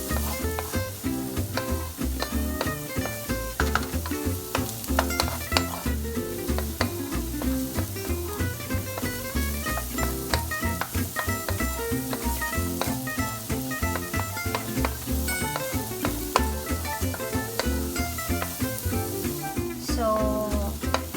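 Carrots stir-fry for quinoa fried rice, a loud, constant sizzle broken by frequent scraping and tapping of the spatula in the pan, close up and steady throughout with no voice.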